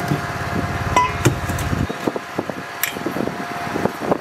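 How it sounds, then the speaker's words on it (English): A Vevor commercial grain mill grinds rice into flour with a steady, close mechanical whir, broken by a few sharp clicks and knocks, and the motor tone drops partway through. "what I'm going to do now is just go back and grind up another half"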